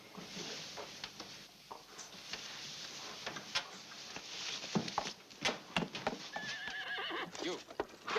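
A horse whinnies and its hooves clip-clop close by, mixed with scattered ticking and rattling, in a 1987 film scene set at a camp stable; the sounds are fairly loud and steady, with no one speaking.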